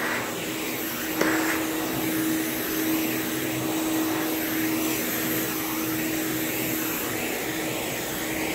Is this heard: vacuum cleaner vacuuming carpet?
yes